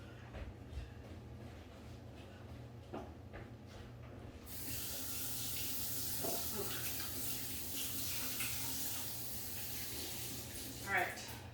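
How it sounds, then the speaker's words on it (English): Hands being washed under a running kitchen tap, a steady broadband water hiss that starts partway through and continues to the end, with people talking quietly before and during. "Let me wash my hands."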